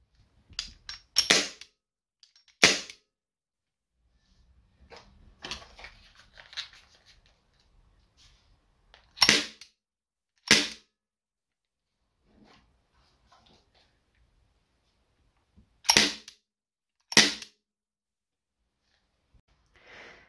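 CO2 Smith & Wesson airguns of different barrel lengths firing one at a time, sharp snapping cracks in spaced pairs with quiet gaps between shots, close and loud.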